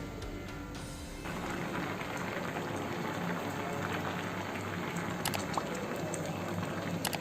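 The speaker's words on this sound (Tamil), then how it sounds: "தக்காளி எல்லாத்தையும் சேர்த்து கொதிக்க வச்சிடலாம்." Steady bubbling simmer of tomatoes boiling in a pot on the stove for pizza sauce, continuous gentle popping and hiss that grows slightly louder after a moment, with no talking.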